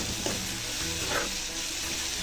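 Masoor dal, a few chickpeas, salt and turmeric are stirred in a pan over a constant frying sizzle, with soft scraping strokes of a spoon rising now and then through the hiss.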